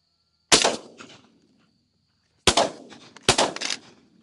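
Three sharp, loud shotgun blasts ring out during a dove hunt at a cattle pond: a single shot, a pause of about two seconds, then two more close together, each trailing off quickly.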